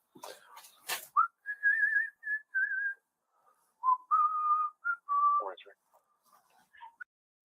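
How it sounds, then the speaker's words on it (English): A person whistles a meandering tune in sustained and short notes broken by brief pauses, clear and close, following a couple of short bursts of noise at the start. "The whistling is cracking me up."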